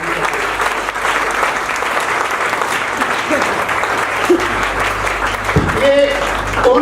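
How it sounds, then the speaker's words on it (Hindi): Loud, sustained applause from a crowd honoring a speaker at a business success celebration, a steady wash of clapping with a voice briefly rising near the end. "अजय जी को मैं एक बार आप लोगों की जोरदार वाली तालियों के बीच में"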